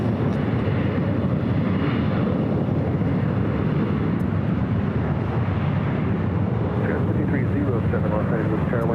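An airliner landing on runway 24 right at LAX makes a loud, steady jet roar with broadband rumble, close and continuous throughout, while people talk over it.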